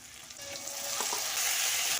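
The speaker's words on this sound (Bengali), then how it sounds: "কেটে রাখা পেঁয়াজগুলো দেব পেঁয়াজটা ভাজা ভাজা হয়ে গেল মশলাটা যে বেটে রেখেছিলাম সেই মশলাটা আমি দিয়ে দেব" Chopped onions and a ground spice paste frying in hot oil for a Bengali fish curry, a steady close sizzle that swells louder over two seconds, with soft stirring scrapes and no voices.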